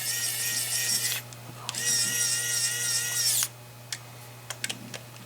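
A Sharden 52-in-1 electric screwdriver drives screws in two steady, close whirring runs of a few seconds each, followed by a few sharp clicks and taps of the tool.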